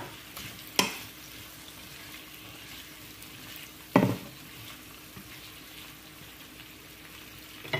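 Carrots, onions and bell pepper frying in a pan give a steady, close sizzle, with two sharp clinks of a utensil against the pan breaking through.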